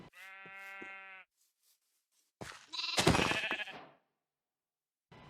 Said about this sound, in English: kill every sheep you may find